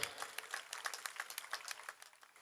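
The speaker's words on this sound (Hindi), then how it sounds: "एक बार जोरदार ताली आप बजा दें" Audience applause at a Hindi poetry gathering, faint and somewhat distant, with individual claps standing out as a loose, pulsing patter that thins slightly toward the end.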